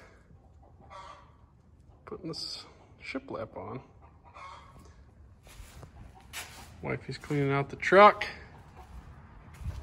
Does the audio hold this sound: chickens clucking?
yes